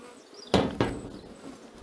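Honeybee colony in an opened hive during a spring inspection, with a faint background hum and two sharp nearby knocks as frames are handled.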